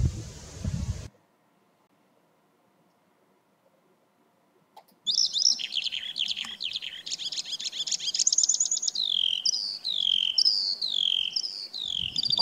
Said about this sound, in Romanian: Ciocârlia.